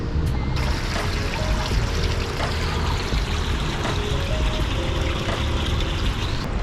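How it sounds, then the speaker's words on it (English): A water fountain in a Kuala Lumpur park trickles and splashes in a steady, continuous wash of falling water, fairly close and unbroken, with no voices over it. "It's a cool water fountain."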